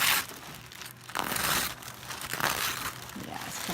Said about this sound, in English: Now all I gotta do is tear the paper off.